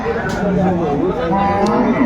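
A cow lows at a crowded cattle market in Aftabganj, Dinajpur, where dairy cows and calves are sold, a sustained nearby moo blended with a dense murmur of voices.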